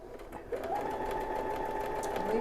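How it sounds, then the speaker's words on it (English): A sewing machine runs in a steady close hum, stitching a quarter-inch seam on quilt fabric after a brief start-up. "and now we're going to sew."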